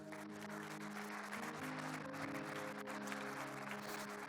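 A church congregation claps during a sermon, a faint, distant spread of hands under a sustained tonal hum of music or organ, steady throughout without any clear voices.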